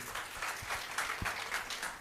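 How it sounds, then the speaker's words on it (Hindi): Audience clapping at a motivational talk, a soft, fairly distant patter of applause with a steady, pulsing rhythm across two seconds. "तालियां बजाओ इनके लिए"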